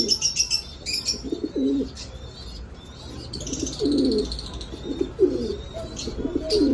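Danish fancy pigeons coo at a bird sale, low throaty calls repeating in bursts amid chirps from other caged birds, with faint bustle in the background.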